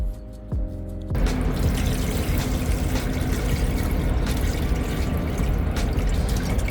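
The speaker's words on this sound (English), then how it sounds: "Now it's time to add some water." Water pours steadily into a container pond, a close, continuous splashing rush that starts abruptly after a brief quieter moment and continues loud to the end.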